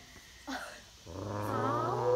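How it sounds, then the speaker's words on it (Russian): A wolf growls in its enclosure at the North Carolina Zoo. A brief rough sound comes first, then a sustained, rising, throaty growl carries loud and close to the end. "Какой-то волк."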